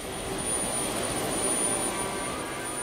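Helicopter engines running in flight, a steady, loud broadband roar with a constant high whine throughout and no voices.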